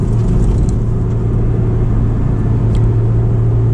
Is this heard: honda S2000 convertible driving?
yes